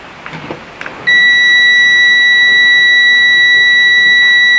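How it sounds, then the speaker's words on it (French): A Tesmen TM-510 multimeter sounds its danger alarm over a fully discharged 9.6-volt battery: after a few faint handling noises, a loud, steady, piercing electronic tone starts and holds without a break. "Là ça sonne parce que ça me dit danger sur la batterie."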